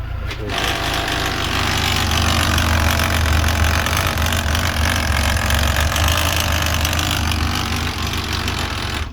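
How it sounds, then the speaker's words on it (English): A Yamaha FJR 1300 motorcycle with a faulty transmission runs close and loud, its engine rumbling steadily under a harsh mechanical whir and gear grind that carries on throughout. "Pretty loud noise, but it doesn't do it in fifth gear, and neutral is horrible."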